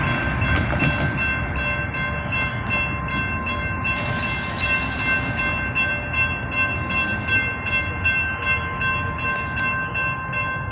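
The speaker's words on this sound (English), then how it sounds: "train coming." A CSX intermodal freight train rolls past continuously, a broad rumbling roar with steady high metallic squeal and rhythmic clacking, loud and close throughout.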